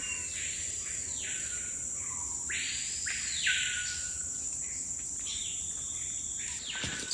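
Loud, ringing whistled calls of a screaming piha rising and sweeping in repeated phrases over a steady background of insects buzzing in an Ecuadorian rainforest.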